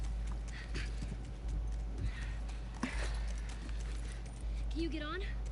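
A horse in The Last of Us moves at a steady clip-clop with a jangle of tack, close and continuous, and gives a short whinny near the end. A player's voice talks over it.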